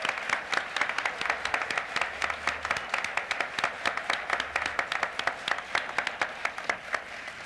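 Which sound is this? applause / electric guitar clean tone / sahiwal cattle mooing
applause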